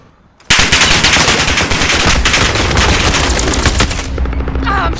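Sustained rapid automatic gunfire in the Call of Duty: Warzone video game, loud and close, starting abruptly and continuing as dense bursts for several seconds before easing into lighter shots.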